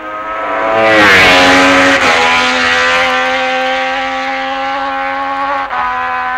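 Giacomo Agostini's racing motorcycle at the 1966 Isle of Man TT roars loud and close, its engine note sliding down in pitch before holding a steady, high droning whine.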